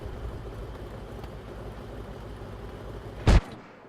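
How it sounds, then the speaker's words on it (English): A single heavy artillery shell impact in World of Tanks, one short loud burst near the end after a steady low rumble of engine and battlefield ambience. "I think those are Arty rounds destined for the IKV"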